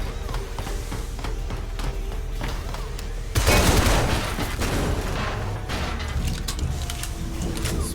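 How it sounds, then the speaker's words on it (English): Gunfire in Shadow Complex as shots are pumped into grates to break them open: a steady stream of game shots, then a louder burst of blasts and rumble midway, continuing in a busy background mix. "Spending so many bullets opening grates"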